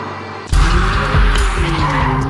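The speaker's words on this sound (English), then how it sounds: "Sliding around can cost you the race." A McLaren Artura hybrid supercar slides on a racetrack, a loud engine roar kicking in abruptly after a brief quieter moment, with rising and falling pitch and tire noise sustained throughout, close by and without talk.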